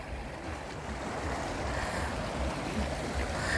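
Water rushes continuously down a mountain valley stream in Gurye, as a broad, steady wash of flowing noise at moderate distance without breaks.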